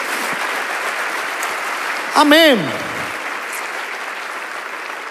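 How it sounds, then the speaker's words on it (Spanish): Congregation in a church applauding steadily beneath a preacher's sermon, a broad hiss of clapping with a short burst of speech rising over it midway. "dale un aplauso de honra al que vive"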